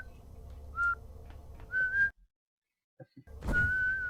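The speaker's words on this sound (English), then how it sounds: "Wow, he literally just whistles." A character in the Minecraft video game whistles in short rising notes, three brief whistles with a gap of near silence and a couple of soft thunks between them.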